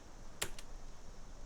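Quiet keystrokes on a computer keyboard while entering commands into the Skyrim console, two faint clicks in quick succession over low background noise.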